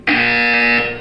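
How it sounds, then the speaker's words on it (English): A loud, steady electronic buzzer sounds once for about a second in the video game Portal 2, starting abruptly and fading at the end. "You will hear a buzzer."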